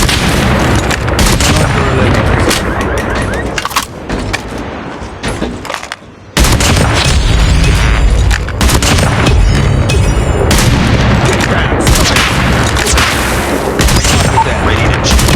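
Loud, dense gunfire and booming blasts in a Call of Duty Mobile sniper-only clan war match, near-continuous sharp shots with one brief lull midway.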